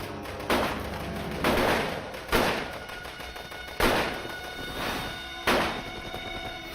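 Soldiers' guns fire in a zombie horror movie: loud bursts of gunfire arrive every second or so, each a sharp blast trailing into rattling echoes against a steady background hum.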